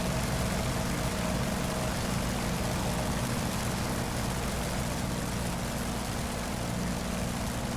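Full-throttle drone of an F4U Corsair's radial piston engine and propeller in the DCS flight simulator, a dense, steady roar that fills the whole clip without a break and with no voices.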